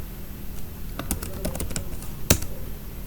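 Quick typing on a computer keyboard while entering a name into an Excel formula, a brief cluster of light clicky keystrokes followed by one sharper key press near the end, close and fairly quiet over faint room hum.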